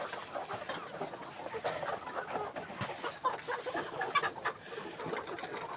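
Ready-to-lay pullet chickens cluck and chatter in a busy, overlapping flock close by, with scattered brief calls and rustling but no speech.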